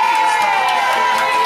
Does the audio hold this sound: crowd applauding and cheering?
yes